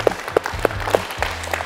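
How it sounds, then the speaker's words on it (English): A small group claps after a judo hip throw demonstration in a training hall, a brief burst of loose, uneven claps with a few sharp accents close by over a low background hum. "Give Adam a little clap."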